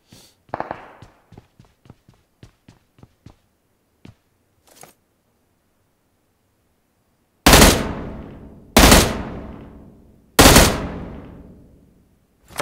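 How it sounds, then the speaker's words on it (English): Video game gunfire from bots in a shooter: a quick string of light pops, then three loud, booming shots spaced about a second apart, each decaying, with no speech. "It sounds like bot shots."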